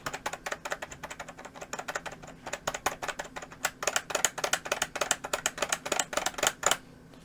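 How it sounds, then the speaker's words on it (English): Modded keyboard switches with swapped caps pressed on a Victrix Leverless KO fightstick, a quieted controller, giving rapid irregular clacking taps that start light and grow denser and louder in quick bursts, close up with no talk. "this is the modded keyboard switch with the different caps."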